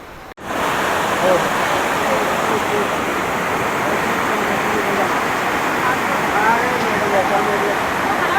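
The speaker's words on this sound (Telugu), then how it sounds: "వాటర్ఫాల్." A Himalayan waterfall near Ghangaria, on the Hemkund Sahib trek, roars with a loud, steady rush of falling water that fills the whole stretch without a break.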